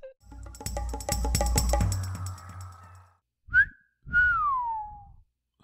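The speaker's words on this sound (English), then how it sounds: "I feel like I can whistle really well." A person whistles a short melodic phrase close to the microphone, followed by a couple of brief sliding whistled notes, clear and fairly loud with gaps of silence.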